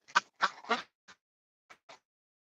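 A goose kept on a homestead honks from a dark pen, three loud closely spaced calls and then three shorter, fainter ones spread across a couple of seconds, with no talk over them.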